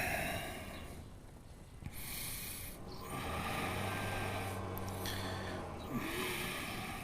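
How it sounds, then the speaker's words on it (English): Slow, deep breaths drawn in and pushed out through the nose during a yoga flow for runners, a long audible exhale around the middle with a faint low hum beneath, close and unaccompanied by talk. "breathe deeply"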